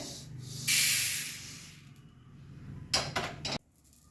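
Roasted jowar (sorghum) grains scraped out of a hot pan, a loud gritty scrape followed by a fading rattle, then a second shorter burst of scraping, with no talk.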